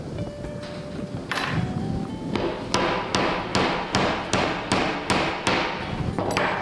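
A wooden plug is tapped into a screw hole in wood with a hammer, a series of sharp, evenly spaced knocks that speed into a steady rhythm, close and fairly loud.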